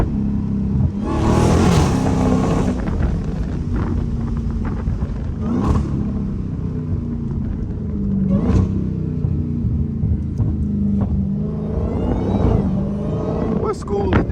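A Dodge Hellcat driving on the freeway, its engine a steady low rumble with a few sharper bursts of revving, heard from inside the car over continuous road noise.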